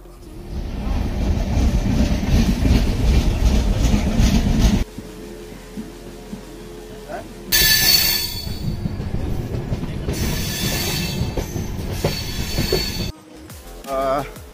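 A train rumbles along the rails with steady mechanical noise, broken by pauses and bursts of high screeching from the wheels.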